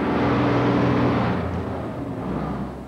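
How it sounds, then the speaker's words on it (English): A heavy lorry rumbles past, its deep engine drone loud at first and then easing off as it moves away. "The main source of this noise is heavy lorries."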